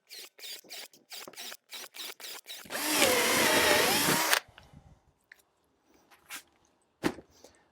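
A slow power drill bores into material while a biodegradable tree guard is made, one sustained grinding run of about two seconds between quick clicking taps and later scattered knocks, fairly quiet.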